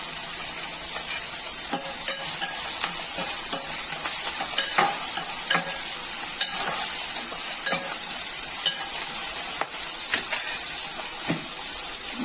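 Chopped onions and curry leaves sizzle in hot oil in a pan for a paneer and sorrel curry, a steady close frying hiss broken by the scrape of a stirring spoon, with no voices.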